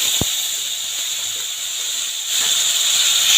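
Tomatoes sizzling in a hot pan with ginger and chili powder, a steady bright hiss that swells louder partway through after a single sharp tap near the start.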